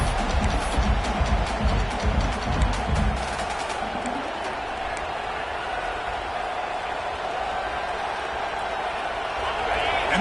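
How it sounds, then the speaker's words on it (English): Football stadium crowd roars in a broad, continuous wash of cheering as the defense tries for a stop, with a dense rumble early on, then steady crowd noise under a commentator's voice. "this crowd coming to life here, trying to help the defense get a stop"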